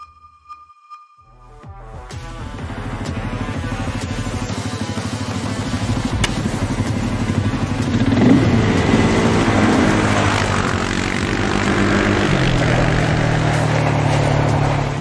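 A CFMOTO CForce 625 quad engine starts up from near silence, then settles into a steady, loud idle with a surge of revving partway through, close and alone without speech.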